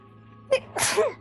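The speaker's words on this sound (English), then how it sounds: "Don't sneeze." A single sharp sneeze, a short intake followed by a loud burst, close and clear against a quiet hum.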